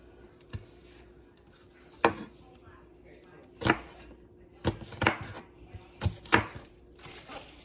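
Kitchen knife slicing a bell pepper into strips on a cutting board: a handful of sharp, separate chops spaced irregularly, close and crisp against a quiet room.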